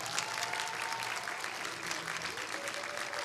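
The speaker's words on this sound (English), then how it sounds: "still, round of applause" Steady applause from an audience at a university convocation, a full sustained patter of many hands with faint murmurs beneath.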